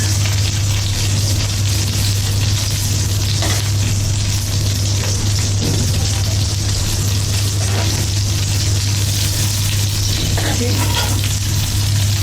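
Tuna fish kababs frying in a pan make a loud, continuous close sizzle of bubbling oil, steady throughout, with occasional scraping from turning.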